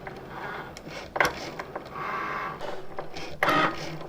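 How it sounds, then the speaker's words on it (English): A Cricut cutting machine working on vinyl, a steady close mechanical whir with bursts of carriage movement and blade passes rising and falling in short pulses. "place this on the Cricut machine and hit the button"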